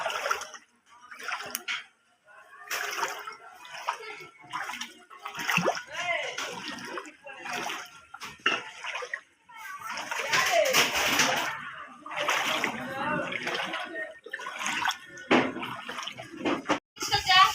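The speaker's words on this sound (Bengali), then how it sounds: "কত দূর অবধি পচা জলে ভর্তি সে একদম ঘর অবধি দেখো আর পা দেখা যাবে না দেখো দেখছো কত জল দেখো" Feet wade and splash through dirty floodwater reaching right up to a house, with sloshing and splattering in uneven bursts while people talk throughout.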